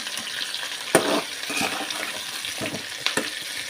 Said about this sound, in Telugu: వీటిని ఒక 3 నిమిషాలు ఈ నూనెలో మగ్గనివ్వాలి.